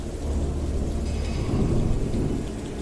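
A torrential afternoon downpour pours steadily in the wild, with a dense hiss of heavy rain layered over a deep, continuous rumble of thunder that swells slightly midway.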